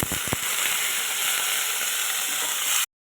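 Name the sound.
potato pieces frying in oil with black cumin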